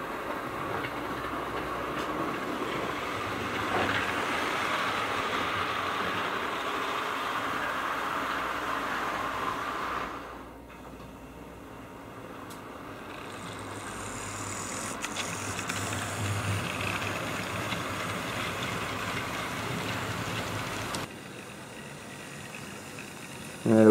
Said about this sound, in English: So here's the Great Western 6100 locomotive.